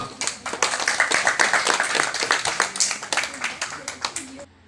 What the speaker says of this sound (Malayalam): അവർക്ക് വലിയൊരു കയ്യടി കൊടുക്കുക